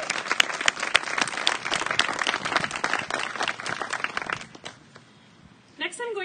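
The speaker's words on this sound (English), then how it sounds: "Please join me in giving a round of applause to our exceptionally generous community donors." A graduation audience gives a round of applause for community donors, with sustained dense clapping that tapers off near the end, followed by a brief voice.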